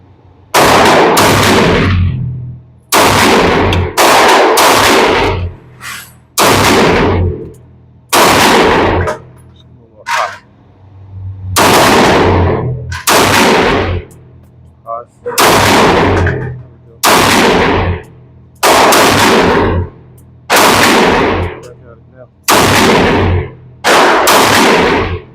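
Rock Island Armory .22 TCM pistol fired at an outdoor range, about sixteen loud, sharp reports spaced a second or two apart, each ringing out with a long echoing tail.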